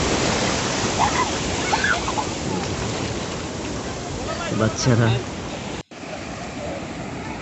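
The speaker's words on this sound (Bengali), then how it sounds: "দেখুন কীভাবে ঢেউগুলো আশ্রয় করছে তার কুলে এসে বড় বড় ঢেউ সাগরের কিনারা এসে আস্তে আস্তে" Sea waves roll in and break on Kuakata beach in Bangladesh, a constant loud wash of surf filling the scene, with a brief nearby voice and faint crowd chatter in the background.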